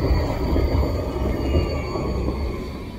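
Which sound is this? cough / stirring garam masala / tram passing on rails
tram passing on rails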